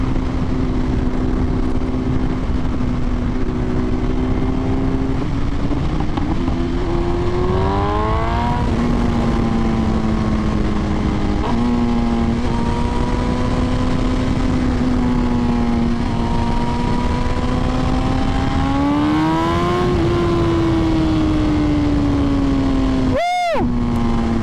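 A new 2023 BMW S1000RR sport bike's engine revs up and settles repeatedly, a loud steady roar rising and falling in pitch close by for about 25 seconds, with a sharp higher whine near the end.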